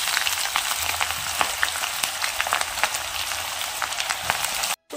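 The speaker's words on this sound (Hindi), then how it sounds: "तेल फाइनली गर्म हो चुका, मैं थोड़ा सा जीरा डाल दी हूँ। अब डाल दी प्याज।" Onions added to hot oil with cumin seeds, giving a loud, continuous crackling sizzle with sharp popping bursts throughout, heard close up with no talking.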